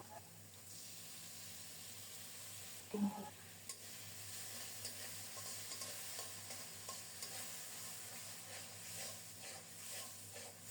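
Masala for rohu fish kalia sizzles steadily in a pan while being stirred, with a soft spoon clack early on and a gentle, continuous frying hiss throughout, fairly quiet and close.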